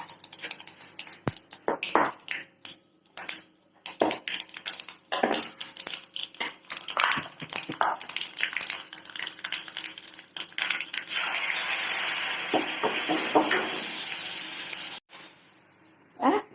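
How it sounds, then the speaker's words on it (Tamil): Mustard seeds and urad dal crackle and pop in hot oil while tempering for a bitter gourd stir-fry, a busy stream of sharp pops followed by a steadier loud sizzle near the end. "இப்போ அதே எண்ணெயிலே கடுகு உளுந்து பருப்பு போட்டு தாளிப்பேன்"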